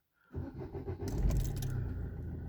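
A key jangles in the ignition, and an Opel Corsa D engine cranks and catches, then settles into a steady idle close by.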